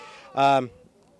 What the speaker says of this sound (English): the type of sheep we're shearing today here at Tilly Foster Farm is Jacob sheep